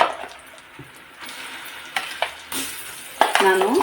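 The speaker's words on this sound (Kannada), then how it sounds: "ಇಲ್ಲಿ ರುಬ್ಬಿರೋಂಥ ಮಸಾಲೆ ಎಲ್ಲ ಹಾಕ್ತಾಯಿದ್ದೀನಿ ನೋಡಿ" Oil sizzles steadily while a spoon stirs and scrapes a metal pot, with a few louder clinks and hisses as thick ground masala paste hits the hot pan.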